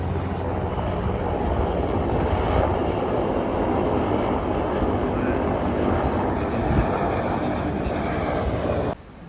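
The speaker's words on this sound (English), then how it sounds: "Not expecting to see a helicopter out here." A distant helicopter drones steadily overhead, a broad continuous rumble mixed with wind buffeting the microphone.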